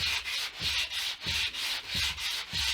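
A sanding sponge rubs back and forth across a guitar body template, producing a close, rhythmic scratchy swish about twice per second, each stroke rising and falling evenly with no voices.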